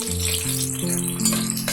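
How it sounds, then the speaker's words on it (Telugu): Onions browning in a pan for a village mutton curry, giving a continuous steady sizzle under held musical tones. "ఈ ఆనియన్ వచ్చేసి బాగా బ్రౌన్గా వేగాలి"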